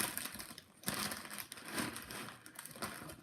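Crinkling of plastic or paper handled close to a microphone during a live stream, a faint, continuous rustle with scattered crackling bursts, without speech.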